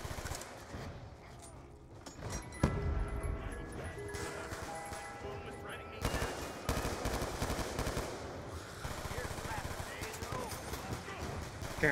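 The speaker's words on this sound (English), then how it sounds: "I'm shooting from the hip" Rapid in-game gunfire from Call of Duty Black Ops 2 Zombies, guns fired from the hip in loud, dense bursts and volleys over a busy game soundscape, with a voice talking throughout.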